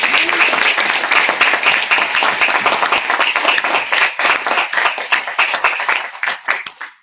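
An audience applauds laureates at a French-language prize ceremony with brisk, close clapping that starts thick and then thins into scattered individual claps as it fades out.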